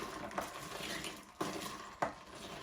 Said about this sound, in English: Use your bar spoon or your finger, whatever you got. Really want to just mix everything up real nice.